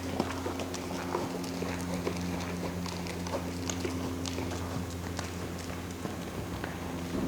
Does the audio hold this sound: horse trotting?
yes